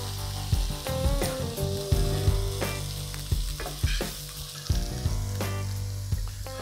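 Coriander-crusted rack of lamb sears in a hot pan, a loud continuous sizzle and crackle with frequent sharp pops and spits, close and unbroken by talk.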